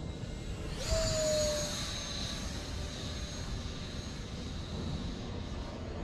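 A 3D-printed Mirage 2000 RC jet flying acrobatics, its engine whine rising sharply in pitch then settling into a steady, fairly faint drone as it passes, with wind noise and no speech.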